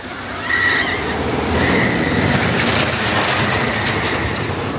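A loud, steady rumble with clattering rattle as the Ghost Rider wooden roller coaster train rolls past nearby at Knott's Berry Farm, with faint screeching and distant crowd noise.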